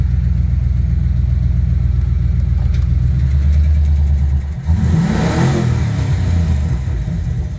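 A V8 engine in a Ford Ranger pickup idles with a deep rumble, then revs hard and loud several times, close by, the roar rising and falling.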